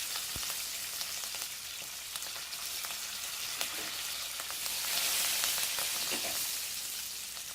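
Curry leaves hit a hot pan for kala chana chaat and crackle in a steady, close sizzle of oil, with occasional sharper pops and a stirring scrape throughout.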